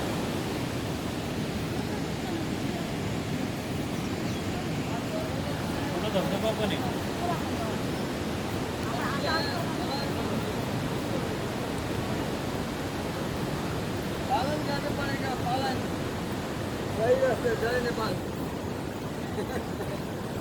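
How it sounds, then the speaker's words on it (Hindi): The Seti River near Pokhara, Nepal, rushing through a deep wooded valley as a steady broadband roar, with faint voices heard now and then beneath it. "तो ये सेती नदी है"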